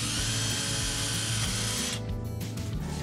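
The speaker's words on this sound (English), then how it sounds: "Drill a small hole in the gables between the dowel and the metal post." A power drill whines steadily as it bores a small hole in an Ikea kitchen cabinet gable, the high motor tone cutting off near the end while low mechanical rumble continues.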